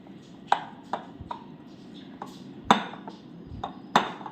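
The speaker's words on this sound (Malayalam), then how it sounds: "നല്ലതുപോലെ ഒന്ന് ഇളക്കിയെടുക്കാം" A spoon stirs a condensed milk and coconut mixture in a pan, giving a series of sharp metallic clinks and scrapes at irregular intervals against a soft background.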